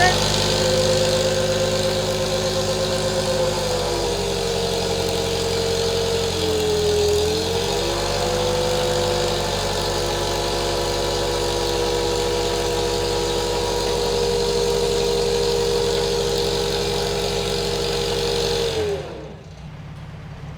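A rebuilt Farmall tractor engine runs steadily on a dynamometer, a loud, close, even drone with a brief dip in pitch partway through before it cuts off near the end.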